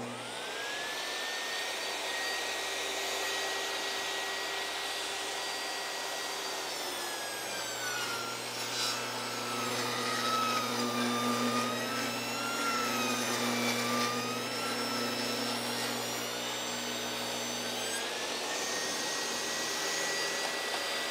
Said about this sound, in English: you can rip a 2x6 into thirds and then rip that on edge as well